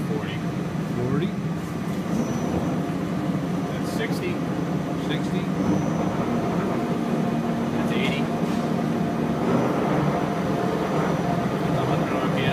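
Johnford CNC vertical boring mill running in high gear and speeding up, a steady loud mechanical hum and whine with a rising tone, with people talking throughout.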